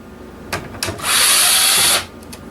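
A power screwdriver runs in one sustained whine of about a second, backing screws out of an old PlayStation motherboard, preceded by a couple of brief clicks and handling taps, with no talk.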